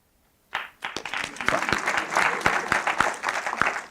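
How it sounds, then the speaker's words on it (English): A TEDx audience breaks into applause after a brief silence, the clapping swelling into a dense, sustained roar of many hands in a hall. "I know you are clapping because I am near the end of my presentation."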